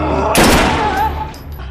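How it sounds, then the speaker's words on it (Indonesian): Film gunfire as hostages are shot, a loud close burst of shots with a bright blast, trailing into fading rumble and faint ringing. "Imran menembaki mereka satu persatu"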